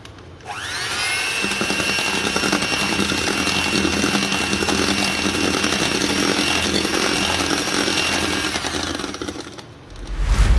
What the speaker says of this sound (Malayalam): ബട്ടർ നമുക്ക് ആഡ് ചെയ്ത് കൊടുക്കാം. എന്നിട്ട് നന്നായിട്ടൊന്ന് ബീറ്റ് ചെയ്യാം.